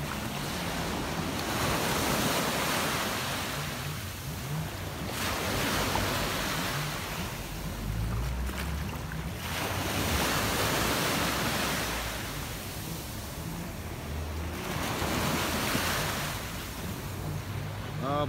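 Ocean surf rolling onto a Barbados shore with wind buffeting the microphone, broad washes of wave noise swelling and receding in slow cycles about every five seconds, fairly distant and unbroken by talk.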